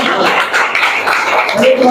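Audience at a monthly branch meeting claps loudly and steadily for a couple of seconds, with voices mixed in over the applause.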